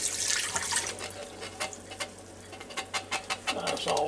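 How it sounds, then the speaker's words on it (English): Swanson beef broth pours from a carton into a Ninja Foodi pot, a soft, close liquid splashing and glugging over a few seconds with light gurgling pulses toward the end. "I'm going to take and put 1 cup of this Swanson's beef broth in"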